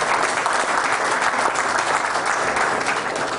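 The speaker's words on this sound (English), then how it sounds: "So round of applause for all of you guys for making that happen." Audience at a tech talk bursts into dense, sustained applause, loud and close, many hands clapping evenly for a few seconds with no voices over it.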